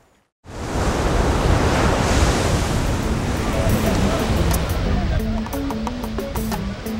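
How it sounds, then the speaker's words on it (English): Atlantic Ocean waves wash ashore at a fishing village in Senegal, a loud, hissing surge of surf that begins abruptly after a brief silence and rolls on steadily, with voices faintly audible toward the end. "So here we are at the Atlantic Ocean"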